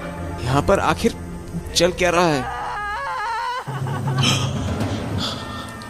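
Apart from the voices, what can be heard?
woman crying in a horror story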